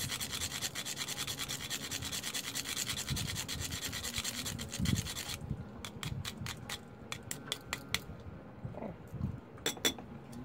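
A cinnamon stick rubs against a grater for a love honey mix, a steady rasping scrape that stops midway, followed by scattered light clicks and taps.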